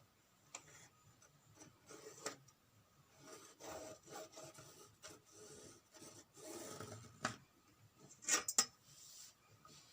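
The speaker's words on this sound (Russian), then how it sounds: "прям рисую карандашом по ткани" A pencil draws lines on fabric: quiet, close scratchy rubbing strokes in short irregular bursts, with a few light taps between them.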